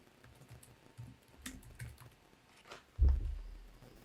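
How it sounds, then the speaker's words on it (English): Keys on a computer keyboard tap out words into a website search bar in a quiet room, giving a short, irregular run of soft clicks, with one heavier keystroke near the end. "you can type your keywords into the search bar here"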